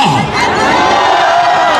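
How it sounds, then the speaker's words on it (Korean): A large crowd at an outdoor political rally roars with loud, continuous shouting and cheering, sustained without a break. "여러분들께서 더 큰 목소리로 함성 질러야 됩니다"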